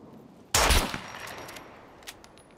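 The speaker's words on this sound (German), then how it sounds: "Die schießen sich gegenseitig ab hier." Gunfire from the video game SCUM: a sudden loud burst of rapid shots cracks out, then fades into a quieter background with a faint later pop.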